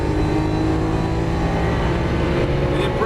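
Lamborghini Aventador LP700-4 engine pulling hard at full throttle on the Las Vegas Motor Speedway track, a loud, dense, continuous roar with a faint voice talking underneath.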